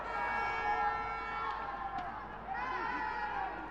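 Malaysian crowd cheering at a rugby sevens cup quarter-final between Malaysia and Sri Lanka, a steady loud roar of the stadium crowd throughout, with a voice talking over it.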